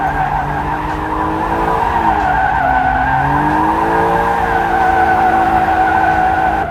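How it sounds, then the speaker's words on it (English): A car drifting in donuts on a track, its tires skidding and squealing continuously with a steady engine drone whose pitch rises and dips, loud and close throughout. "So let's just do some donuts, dude."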